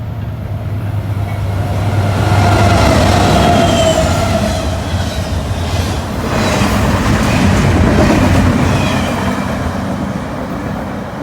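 An eastbound train led by a pair of C6M locomotives rolls past on the mainline, a loud, close, steady rumble with engine drone and rail clatter that swells and eases over several seconds, with no voices.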